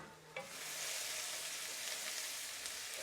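Onions and ginger sizzle steadily in a little oil for chicken biryani, a dense, even frying hiss that fills the whole span after a brief stir near the start, close and without speech.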